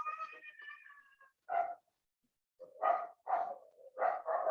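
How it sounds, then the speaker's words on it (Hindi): A dog barks in repeated short bursts close to an open microphone during an online call, following an earlier whining, whimpering sound, with brief pauses between the barks and no talking. "कुत्ते भी भौंकते हैं उनके आसपास में"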